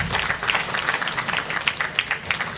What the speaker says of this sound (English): can you give them a round of applause as they go back to their seats?